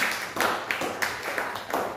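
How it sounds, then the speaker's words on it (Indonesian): Audience of parents applauding at a school positive-culture session, a faint, brief patter of scattered hand claps in a room. "Tepuk tangan buat kita semua."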